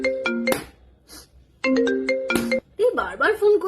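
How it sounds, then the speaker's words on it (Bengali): A mobile phone ringtone plays in two short, loud bursts with a quiet gap between them, and a voice starts talking right after the second ring. "এই বারবার ফোন করছে তো"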